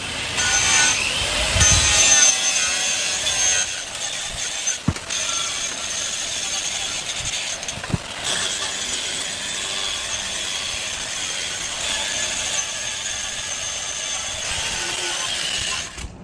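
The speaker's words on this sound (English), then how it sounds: "I've got the paint stripper on the grinder, and we're going to prep this grab bar." Grinder fitted with a paint-stripper disc working over a metal grab bar, giving a continuous loud high whine with abrasive hiss, two brief breaks in contact along the way, held steady for about sixteen seconds.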